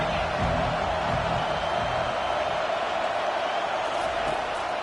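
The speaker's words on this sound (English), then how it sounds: "Here comes second down, and this crowd is turning it up a notch." A stadium crowd in the College Football 25 video game, at a Miami vs Texas matchup, roars in a steady, loud, unbroken wash of cheering that fills the whole stretch.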